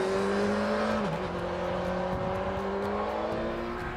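A Kawasaki Z800 motorcycle's 803 cc inline four-cylinder engine drones steadily and close, holding an even, continuous tone with a slight dip in pitch early on and no voices.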